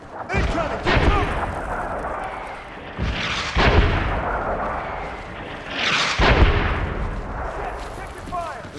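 Artillery strike in the Medal of Honor Warfighter video game: three heavy, booming blasts spaced a few seconds apart, each with a long rumbling tail, loud and close, with voices shouting faintly in the mix.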